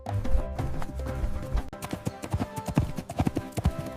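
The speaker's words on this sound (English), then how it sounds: "It's a horse." Hooves of a running horse clip-clop in a quick, uneven rhythm, loud and close, with dense sharp strikes and no one talking.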